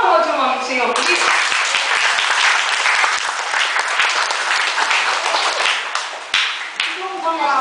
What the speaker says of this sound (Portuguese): Vamos aplaudir o nome do Senhor por isso?